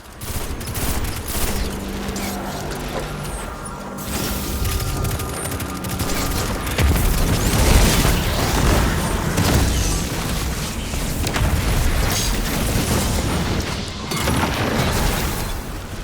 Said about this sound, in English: I like to throw my vortex grenade on him and just start burning him through